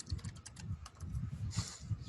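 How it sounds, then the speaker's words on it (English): Furious, rapid typing on a computer keyboard, with dense clusters of close keystrokes clattering in quick bursts and no voices over it. "Furiously typing."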